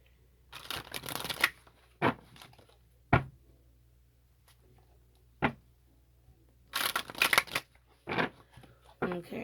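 Osho tarot cards being shuffled, heard as several short riffling bursts and sharp snaps close by, separated by quiet pauses.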